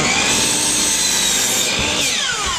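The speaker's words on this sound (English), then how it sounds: "I'm going to go back to the miter saw. I'm going to trim off." A miter saw trims the end off a wooden drawer false front, a loud, steady whine of the blade cutting through wood that holds for the whole stretch and winds down slightly near the end, with no talking.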